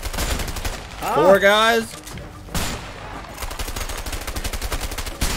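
Rapid gunfire from the video game A Way Out: a sharp shot, then a dense stretch of quick repeated bursts at steady volume, with a voice speaking briefly beforehand.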